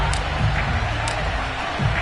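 Stadium crowd at an NFL game in London against the New York Jets, a steady broad roar of cheering throughout with low rumble, sounding distant and continuous with no clear talk.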